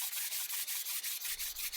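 Rhythmic back-and-forth hand sanding of wood veneer with the grain on a 1930s sideboard, a steady close scratchy rasp in even strokes; a low hum enters near the end.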